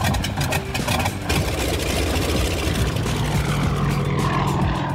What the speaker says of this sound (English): I thought I'd get the first ex-Russian fighter plane that came along.